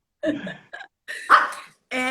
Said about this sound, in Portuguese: Desculpem meu cachorrinho, gente.